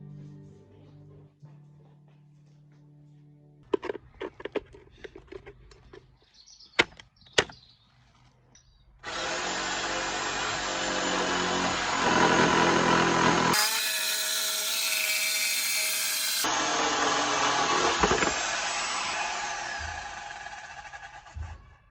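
A power tool cuts a part for a racing sim rig: a few clicks and knocks first, then a loud, sustained buzzing whine that runs for about twelve seconds, shifting pitch midway as the blade bites.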